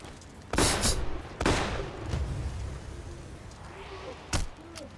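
Gunfire in the video game Payday: The Heist: several sharp, loud shots crack at irregular intervals, a couple close together near the start and another later, over a low background hum.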